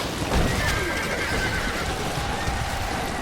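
Horses neigh and whinny amid hoofbeats from horse archers in a Stronghold Crusader battle, a busy layered game soundscape of overlapping calls and clip-clop with no voice over it.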